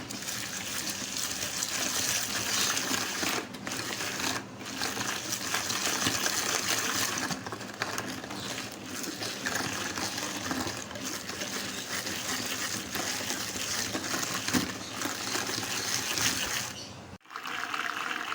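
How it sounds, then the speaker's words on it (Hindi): An electric beater whips aquafaba with powdered sugar and lemon juice, a steady close whirring drone with a wet churning texture that runs nearly unbroken, stopping abruptly near the end. "इसको खूब अच्छी तरह से हमें बीट करना है बीटर से"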